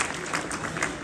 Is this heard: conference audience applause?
yes